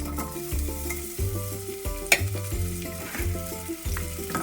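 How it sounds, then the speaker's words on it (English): Garlic and onion sizzle and fry in hot cooking oil in a preheated saucepan, a continuous crackling sizzle with periodic stirring scrapes, close and steady with no talking. "Then saute the garlic, onion,"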